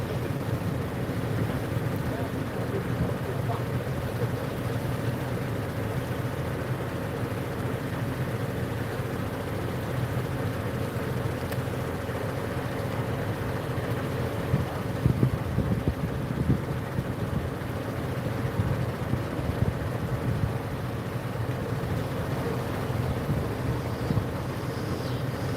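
A twin-engine boat on Lake Wylie drones steadily at a low pitch, continuous and fairly loud with wind noise over the top, and the rumble holds even from start to finish.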